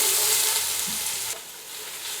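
Capsicum fries in sunflower oil with cardamom, cloves and black pepper, giving a loud, close, continuous sizzle that eases slightly partway through.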